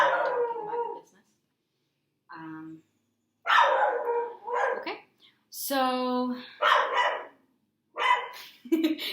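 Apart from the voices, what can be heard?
dog barking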